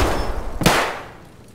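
A single sharp, loud grenade blast in the shooter Escape from Tarkov cracks out partway through, then quickly fades into a decaying tail over a busy in-game background.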